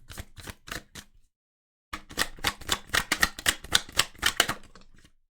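Tarot cards handled from a deck give two bursts of crisp, rapid flicking clicks, a short run and then a longer, louder one after a brief pause, close up with no talking.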